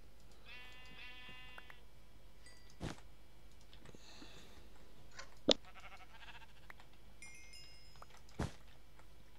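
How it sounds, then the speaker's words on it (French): Sheep in the Minecraft video game bleat in a few short, clear calls spread across the stretch, with sharp clicks and thumps from gameplay in between and no talking. "Salut mouton."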